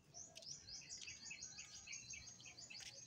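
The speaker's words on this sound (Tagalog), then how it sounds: "Ang daming ibon." Several small birds chirp and tweet in quick, overlapping high calls outdoors, faint and fairly distant, with a soft insect-like hum underneath.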